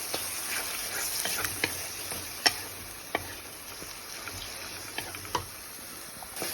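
Shrimp fry with onion and spices in a pan, giving a continuous close sizzle with occasional sharp ticks and pops scattered through it.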